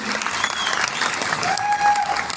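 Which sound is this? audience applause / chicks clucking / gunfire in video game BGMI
audience applause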